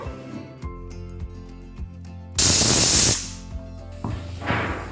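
A pressure cooker cooking chickpeas for chana masala lets out a loud, sharp burst of hissing steam for about a second, followed later by a softer hiss.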